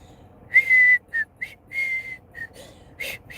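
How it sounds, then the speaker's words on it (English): A person with asthma whistles in short, breathy bursts, a held note followed by several brief broken tones that falter and thin out, close to the microphone with no speech. "I can still whistle."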